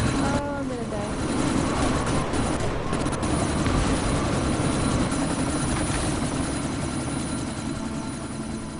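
Helicopter in the video game Deus Ex: Mankind Divided, a continuous loud rotor and engine drone amid a sandstorm, with voices speaking over it.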